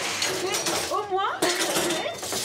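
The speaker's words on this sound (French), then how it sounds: "C'est les couverts et ça casse pas." Cutlery clattering as it is handled and put away in a restaurant kitchen at a Mont-Blanc refuge, metallic clinks under nearby talking.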